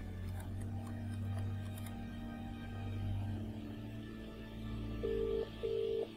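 Telephone dialing in the video game Contradiction: two short, steady electronic tones sound near the end, over a low, continuous hum of game ambience.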